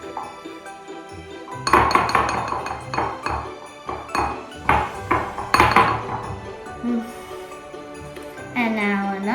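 A metal utensil scrapes and clinks against a bowl while white buttercream frosting for Christmas brownies is scooped out, in a series of close, bright taps and knocks with brief pauses and a sung or hummed voice near the end.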